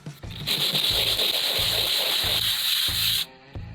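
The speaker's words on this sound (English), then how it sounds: "Now we just sand that flush." Sandpaper rubs steadily over hardened thin CA glue and coffee-ground filler in wood, sanding it flush; a loud, continuous hiss runs for about three seconds, then stops abruptly with faint low bumps around it.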